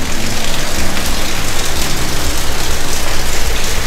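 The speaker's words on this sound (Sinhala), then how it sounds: "මොකද මේ වෙලාවේ හොඳටම වහිනවා." Heavy rain pours steadily outside a house for sale in Koswatta, Sri Lanka, a dense, loud, unbroken hiss that fills the whole stretch with no voices.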